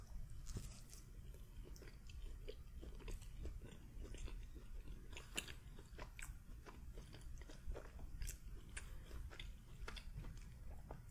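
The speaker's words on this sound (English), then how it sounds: "Let's get a bite with the pita bread." Soft close-up bites and chewing of pita bread topped with yogurt and sauce, a quiet run of small wet crunches and mouth sounds over faint room hiss, with no talking.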